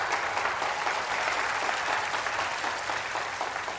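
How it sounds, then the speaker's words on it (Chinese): Guests at a wedding ceremony applaud the groom. The clapping is continuous and even, a moderately loud wash of many hands that holds steady throughout with no talk over it. "下面有请全场来宾响起今天第一次祝福的掌声，祝福一下帅气的新郎，"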